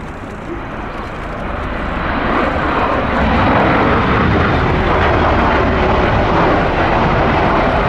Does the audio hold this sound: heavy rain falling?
no